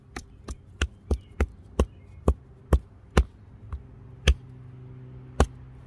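A primitive stone chisel struck against stone: about a dozen sharp, close, percussive knocks at an uneven, roughly half-second rhythm, each ringing briefly, with nothing else but quiet room noise.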